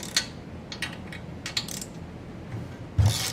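A wrench loosens two 13 mm nuts on the spark arrestor of a Briggs & Stratton 950 Series engine, with scattered metallic clicks and ratchet ticks, then a firmer clunk near the end, close by and without talk.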